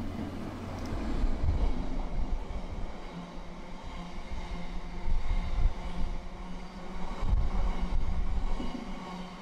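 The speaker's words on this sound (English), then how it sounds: "a GBRF Class 60, 60026 Helvellyn, heading from Drax to Tyne Coal Terminal with empty biomass hoppers" A GBRF Class 60 diesel locomotive hauls a rake of empty biomass hopper wagons past, a steady loud rumble of engine and rolling wagons with rattling surges throughout, no voices.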